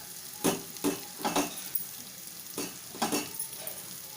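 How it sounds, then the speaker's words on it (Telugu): Chicken fries in a pan over a low flame with a steady soft sizzle, broken by several sharp scrapes and clinks as a utensil stirs the pieces against the pan. "ఇప్పుడు ఒక ఐదు నిమిషాలు మూత పెడుతున్నా సిమ్లో చిన్నగా వేగుతుంది"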